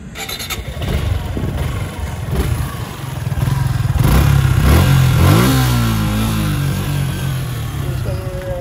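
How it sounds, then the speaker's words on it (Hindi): A 2022 Suzuki Gixxer SF 155 motorcycle engine starts up and revs, rising and falling in pitch, loud and close, with a steady exhaust rumble throughout. "मैं इसका एक बार आपको एग्जॉस्ट साउंड सुना के दिखाता हूँ"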